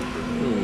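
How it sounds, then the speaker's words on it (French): A Porsche Cayenne Turbo S passing close by on a street, a brief steady engine and tyre roar with no gaps. "Avec une petite Porsche Cayenne et Turbo S qui vient de passer à l'instant derrière moi là."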